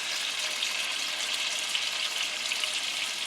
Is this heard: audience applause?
no